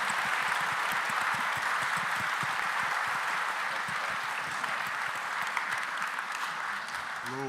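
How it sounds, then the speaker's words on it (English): Conference audience applauding the panel participants: sustained, even clapping from a sizeable crowd, continuous and fairly distant, with no speech over it. "Could you please give your applause to our participants, please?"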